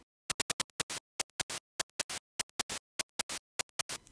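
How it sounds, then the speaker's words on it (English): NES noise channel bursts out short hissy static hits in quick irregular rhythmic clusters, like chiptune percussion, fairly quiet and with no voices. "The fourth voice can only produce noise."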